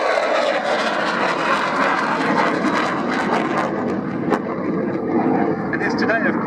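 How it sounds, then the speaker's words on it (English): A General Dynamics F-16 fighter jet flying at the Royal Navy International Air Day at RNAS Yeovilton, a loud continuous jet roar with a rumbling edge, an announcer talking over it on the public address. "Originally intended by its then manufacturer, General Dynamics, as a lightweight fighter, but which soon evolved into something far more capable"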